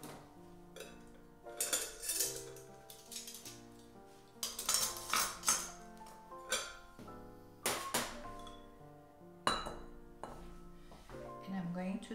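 Pot and utensil clinks as Swiss cheese fondue is transferred into a fondue pot, scattered light metallic knocks and scrapes at an irregular pace, close and quiet, under a person talking.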